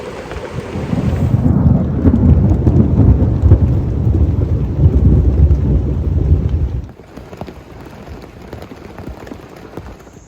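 A thunderstorm rolls over a Kentucky state park campground, heavy rain roaring with deep rumbling thunder up close, then the downpour drops off sharply to a lighter patter near the end.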